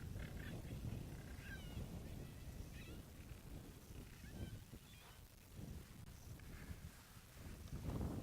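A female cheetah calls out at dusk on an African safari drive, a string of faint, distant chirping cries over low rumbling background noise.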